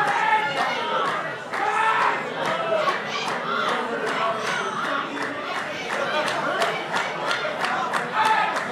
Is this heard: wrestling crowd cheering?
yes